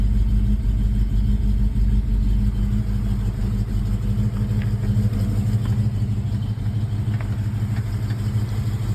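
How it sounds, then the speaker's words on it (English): The engine of a 1965 Ford Mustang idles with a low, steady, loping chug that is close and continuous. "So that chugging sound the engine makes in the car."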